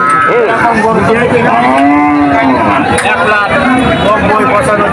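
Cattle at a rural cattle market give several long, loud moos close by, one drawn-out low call standing out, over a busy background of crowd chatter and people talking.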